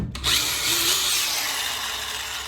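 A drill holds a window regulator motor armature in its chuck and spins it, giving a loud, steady high-pitched whir that starts abruptly and holds close and constant.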